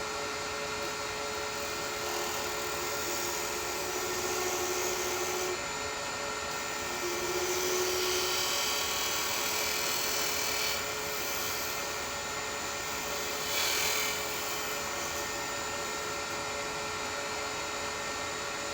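A skew chisel works as a scraper on wood spinning on a lathe, giving a steady, continuous whirring hum with faint scraping that holds evenly throughout.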